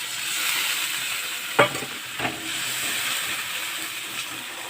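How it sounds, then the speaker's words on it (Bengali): Ground ginger, cumin and coriander paste frying with dried chilli for a katla fish curry, a steady hissing sizzle with two distinct scraping stirs of the spoon, no voices. "মশলাটা আমি ভালো করে কষিয়ে নেব।"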